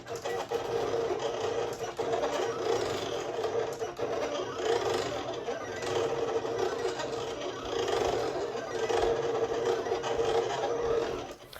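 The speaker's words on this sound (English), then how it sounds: "let's send everything to the cutter, and today we will be cutting using" A Silhouette Cameo cutter slices heat-transfer vinyl, producing a continuous close mechanical whirring and scraping hum with slight rhythmic fluctuations throughout, no voices.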